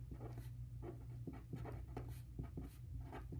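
Marker or chalk strokes on a board, a quiet series of short scratchy squeaks in an irregular rhythm, alone with no voices.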